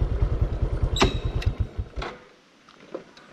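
A motorcycle engine thumps in a fast, even rhythm, close and loud, along a narrow road open only to motorbikes and small vehicles, then drops away to near quiet with a few faint clicks.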